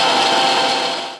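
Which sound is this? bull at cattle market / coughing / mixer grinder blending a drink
mixer grinder blending a drink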